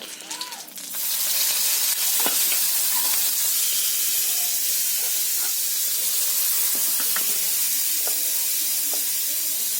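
Chopped banana stem dropped into hot spice-frying oil in a wok gives a loud, steady sizzling hiss that fills the whole stretch, with a few faint clinks of a utensil.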